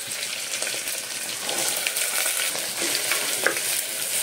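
Potatoes, carrots and green peas stirred into frying onions and green chillies, a close steady sizzle with soft scraping strokes and a few brighter spatters.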